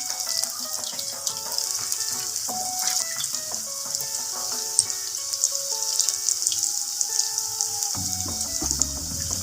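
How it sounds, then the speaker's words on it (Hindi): Chicken pakora pieces lowered one by one into hot oil, giving a steady close sizzle of frying with soft bubbling and light tonal clinks throughout, no talking. "तो अभी हम इसे फ्राई कर लेते हैं चिकन पकौड़ा को।"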